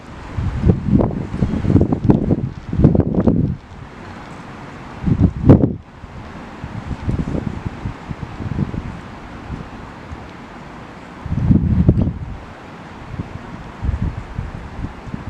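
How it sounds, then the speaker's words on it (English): Outdoor wind gusts against the microphone beside a telescope during a night viewing of the full moon, coming as uneven low rumbling bursts between quieter spells. "I'm not feeling the wind."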